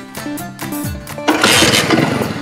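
A motorcycle engine catches and starts about halfway through, shifting from a quieter stretch into a steady, loud, broad roar that holds to the end.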